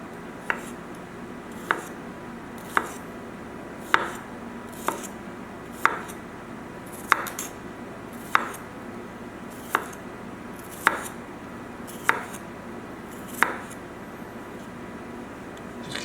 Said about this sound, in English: We're supposed to be thinly sliced, so we'll thinly slice as much as possible.